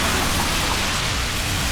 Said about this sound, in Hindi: हल्की हल्की बूंदें हो रही हैं, बारिश हो रही है।